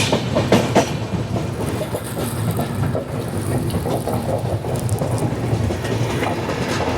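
Onboard the Mumbai–Ahmedabad double decker express, a loud, steady rumble with rhythmic clickety-clack of wheels over rail joints fills the carriage as the train runs at speed.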